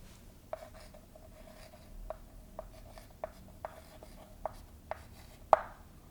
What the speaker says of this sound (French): J'écris mon résultat.